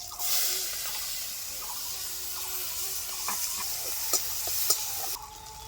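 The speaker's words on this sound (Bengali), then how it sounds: "পেঁয়াজটা ভাজা ভাজা হয়ে আসছে" Chopped onion with cumin seeds sizzles in hot mustard oil while being stirred, giving a steady frying hiss with scattered scraping stir sounds and clicks, no talk.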